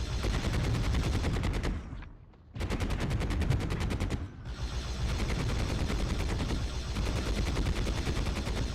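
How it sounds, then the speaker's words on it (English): Rapid automatic gunfire in Warhammer 40,000: Fire Warrior on PS2, a loud, close, sustained stream of shots with two brief pauses before the firing resumes. "I'm just gonna stand right here and shoot it right in the fans"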